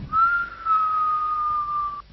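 A single clear whistle held as one steady, slightly falling tone for about two seconds, close and alone against a quiet background.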